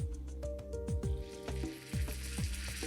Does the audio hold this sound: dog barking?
no